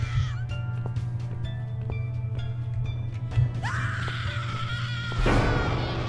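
Screaming in The Cat Lady, a grim black-and-white horror adventure game: shrill, wavering cries rise over a low droning hum, with sharper wails bursting out near the end.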